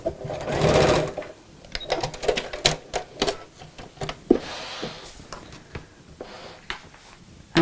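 Sewing machine stitching a fabric car seat organiser pocket in place, with short bursts of rapid stitching separated by pauses and clicks, close and fairly loud, no talking.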